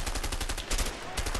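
Rapid bursts of gunfire from a burst-firing gun in the video game A Way Out, loud and close, with shots repeating in quick clusters throughout and no pause.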